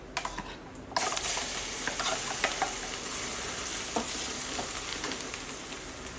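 Sorrel leaves (puli keerai) sautéing in a pan with curry leaves make a dense, even sizzle that steps up sharply after a brief softer start, with occasional light taps and stirring clicks.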